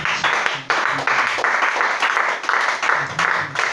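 A church congregation at a worship service bursts into sustained applause, dense clapping from many hands filling the room for a few seconds, with some voices mixed in.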